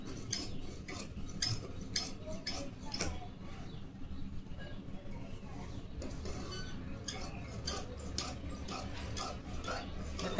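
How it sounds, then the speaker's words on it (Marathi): Scissors cut through blouse fabric, two blouses stacked and cut together: a run of sharp, irregular snips and clicks close by, with someone talking over parts of it. "पण बघा आता कटिंग करून घेते मी ब्लाऊजची।"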